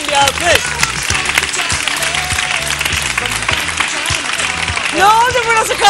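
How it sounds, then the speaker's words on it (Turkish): Studio audience applause on a TRT television show, a dense stretch of clapping lasting about six seconds and swelling near the end, mixed with other studio sound and a voice. "Kocaman bir alkış."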